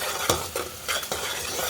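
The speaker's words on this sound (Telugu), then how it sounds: "చూడండి, ఫ్రై అవుతుంది కదా ఆనియన్స్" Onions fry in a pan for a Kadapa-style fish biryani, a loud close sizzle with a few quick scraping stirs of a spoon.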